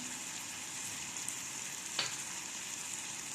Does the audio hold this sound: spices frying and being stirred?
yes